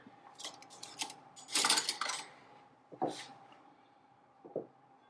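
Silverware set down on a Thanksgiving table: several separate metallic clinks and clatters, close and fairly crisp, with quiet gaps between them.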